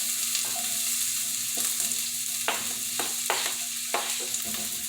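Chopped onions frying in hot oil in a pan for a breakfast casserole, a steady close sizzle with a few sharp crackles and stirring scrapes, no talking.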